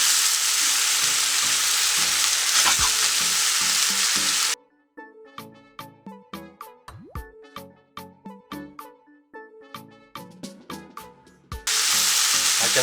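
Garlic fries in a hot pan, heard as a loud, dense sizzle that stops for a stretch of intermittent clicks and taps, then returns. No one speaks.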